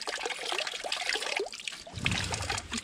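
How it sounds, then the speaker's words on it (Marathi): An old mountain spring from the Peshwa era trickles and babbles close by, a lively continuous dribble of water that grows fuller toward the end. "डोंगरातनं झरा येतो."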